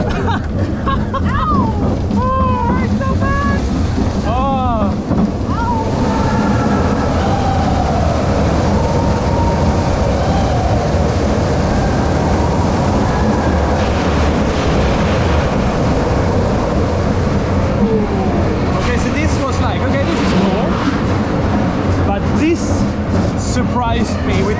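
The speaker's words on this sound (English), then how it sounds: "A nice little coaster." A small family roller coaster train runs on its track with a steady, loud rumble and rattle throughout, while riders chatter and exclaim over the noise.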